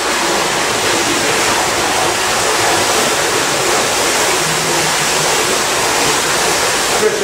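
Steady, loud rush of water gushing from a fast pump into a tank for a flood door test, a continuous broadband roar with no breaks for the whole stretch.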